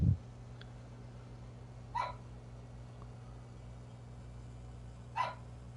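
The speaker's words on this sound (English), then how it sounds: "Dog is barking." A farm dog in the video game Farming Simulator 22 gives two short distant barks a few seconds apart, over a steady low engine-like drone.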